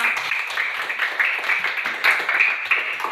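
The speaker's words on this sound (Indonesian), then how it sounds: "kita berikan tepuk tangan buat temanmu" Classroom of students clapping for a classmate, a brisk, fairly close patter of many hands lasting a few seconds without talk.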